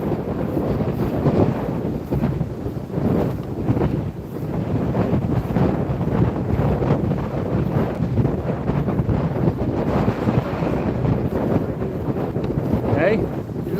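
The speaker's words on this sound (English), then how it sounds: "It's blowing up. It's 10 times windier here than it is at the top of the hill" Strong gusting wind roars across the microphone at an airport during a crosswind, a loud continuous buffeting rush that swells and dips throughout, with people talking faintly beneath it.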